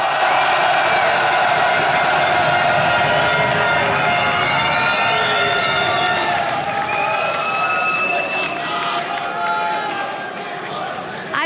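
Big esports arena crowd at a League of Legends LCS Europe match, roaring and cheering loudly and steadily, with whoops over the top. An announcer talks over the noise.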